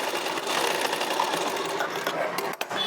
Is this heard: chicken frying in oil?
no